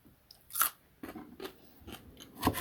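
A fresh watermelon radish is bitten and chewed, giving several sharp, crisp crunches spaced irregularly, close up and clear with no voice over them.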